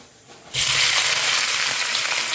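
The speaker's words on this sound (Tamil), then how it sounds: "எண்ணெய் ஊற்றிட்டு காய்கறிச்சு நேரடியாக வெங்காயம் போட்டுக்கலாம்" Onion dropped into hot oil, a sudden loud sizzle bursting in after a quiet half second and continuing as a steady close hiss.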